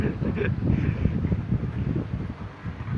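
Wind rumbles and buffets against the microphone in low, uneven gusts at Ipo Dam in Bulacan, with faint voices in the background.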